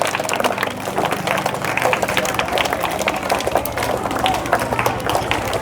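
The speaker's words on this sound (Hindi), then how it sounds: "चलो भाई ताली बजाए इन लोगों के लिए।" Students at a school half-yearly exam result ceremony clap for the class toppers, a dense, steady crowd applause running the whole time beneath a speaking voice.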